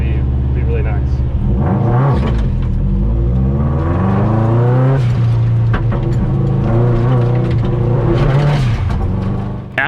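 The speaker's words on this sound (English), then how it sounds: "during these practice laps, I was experimenting with doing a clutch kick to initiate a drift" A Miata with all-wheel drive on a rallycross practice lap, its engine revving and shifting pitch through the run, loud and close, with steady sweeping harmonics as it rises and falls while talk runs over it.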